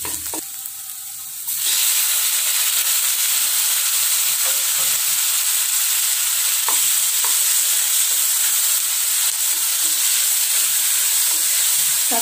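Onions and tomatoes sautéing in a pan for butter chicken, a steady loud sizzle with occasional scraping stirs, starting quieter and rising sharply after a second and a half.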